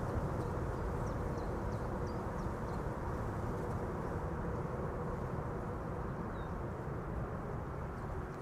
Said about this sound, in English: on second thought they did spool up the reversers a little bit